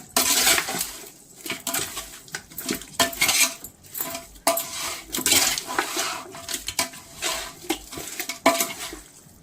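Chicken biryani mixture stirred and mixed in a metal pot, close, repeated scraping and clanking of a spoon against the pot in an irregular rhythm, with no talk.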